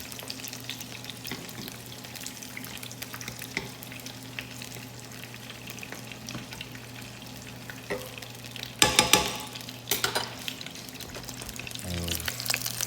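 Garlic fries gently in a pan on low heat with a soft, continuous sizzle and light stirring, and a few sharper crackles and splashes burst out near the end.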